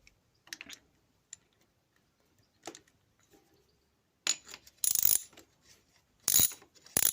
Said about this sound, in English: So I'm going to bolt that on and then get the other one on